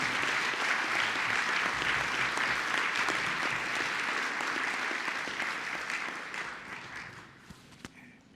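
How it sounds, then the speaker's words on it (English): Steady applause from a banquet audience at a chamber of commerce awards evening, a full even clapping that holds for several seconds before gradually thinning and fading out. "I would like to ask for a round of applause for Miss Amy Frazier and the banquet committ"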